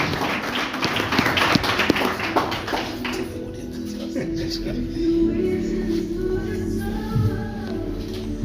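Audience at an annual business event clapping to welcome a speaker on stage, a loud burst of applause that fades after a few seconds into room noise and speech.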